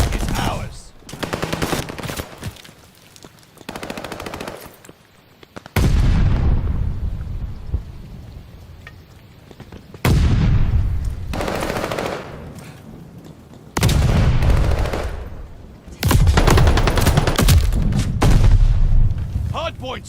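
Video game gunfire erupts around a hard point in repeated heavy bursts of rapid automatic fire and loud booming shots, separated by quieter stretches with some voice.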